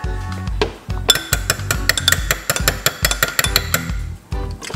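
Glass clinks and spoon taps ring out as teaspoons of lemon juice and organic honey go into a morning drink, a quick irregular run of bright metallic-glass strikes close by with no talking.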